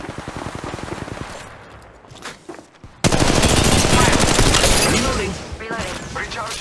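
Enemy gunfire in the Apex Legends Mobile video game, rapid automatic bursts, quieter and scattered at first, then a loud, dense stretch of continuous shooting with mixed impacts.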